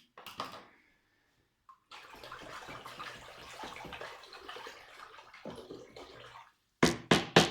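Water splashes and pours steadily while Cattleya orchids are hand-watered, a continuous wet hiss broken by short gaps, ending in three louder, abrupt splashing bursts close by.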